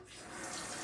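Kitchen tap running to rinse an Aldi Dishmatic dish brush, a brief steady rush of water streaming close by with no speech.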